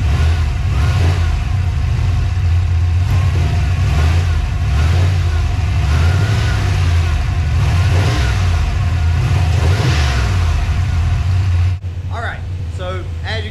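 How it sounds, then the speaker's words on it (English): A car's engine on its first start with a Terminator X blow-through carburetor runs steadily with a deep droning idle and slight rises in revs, loud and close, before cutting abruptly near the end. "So as you can see, the car is running behind it."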